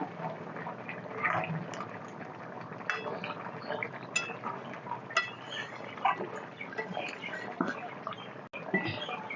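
Ari fish head curry being stirred in a pan after ground garam masala is added, Bengali style: repeated close metal clinks and scrapes of a spoon against the pan over a soft wet bubbling.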